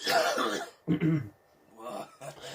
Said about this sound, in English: if you coughed and I coughed and you coughed after